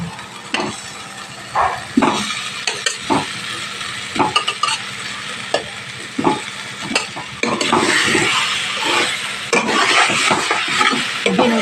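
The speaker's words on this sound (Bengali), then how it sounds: "এই পর্যায়ে এসে এবার আলুগুলো দিয়ে ভালোভাবে কষিয়ে নেব" Potatoes fry with spices in a pan for a village-style egg curry, a loud close sizzle under repeated scraping strokes of a spoon against metal, the hiss swelling stronger toward the end, no talking.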